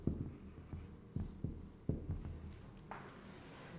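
Pen or marker writing code by hand, a series of faint, close taps and short strokes in an irregular rhythm, quiet with no talk.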